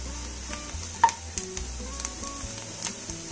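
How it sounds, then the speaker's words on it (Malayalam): Masala sizzles steadily while being sautéed in a pan for pepper chicken roast, a quiet, close crackle broken by light scrapes and taps of stirring. "മസാലയുടെ പച്ചമണം പോകുന്നതുവരെ നമുക്ക് നന്നായിട്ട് വഴറ്റിയെടുക്കാം"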